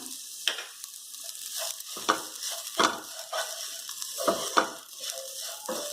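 Spice masala with chilli powder and garam masala roasts in a pan for a vegetable bhaji, giving a continuous close sizzle broken by stirring scrapes of a spoon every second or so, no talk.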